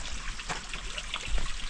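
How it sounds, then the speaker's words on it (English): A small stream of water trickles faintly and steadily through a forested mountainside on Mt St Helena in Napa County at the end of May, with low outdoor ambience and no talking. "Teeny bit of water running still."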